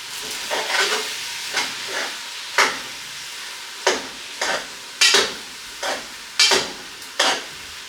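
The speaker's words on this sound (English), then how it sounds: "Now I'm going to stir it around" Garlic shrimp and asparagus are stirred in a hot pan, with about ten distinct scraping strokes at an irregular rhythm over a continuous soft sizzle, close and clear with no talking.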